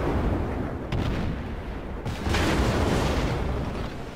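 Heavy naval guns of a battleship firing in World of Warships, deep booming salvos rolling over a constant low sea-and-engine rumble, with a couple of distinct blasts a second or so apart.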